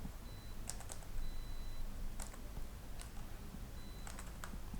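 Typing on a computer keyboard while entering text in PowerPoint: a few faint, sparse key clicks spaced out over a steady background hiss, with no talk.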